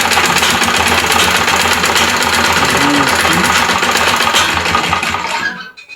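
A sewing machine stitches a shirt collar in a fast, steady, close whir that runs continuously and then stops abruptly at the end.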